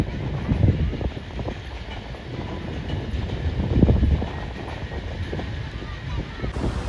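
Super Parcel Express train hauled by locomotive 501 pulls hard through Drigh Road railway station, a steady rumble of rolling wagons with gusty wind buffeting the microphone throughout.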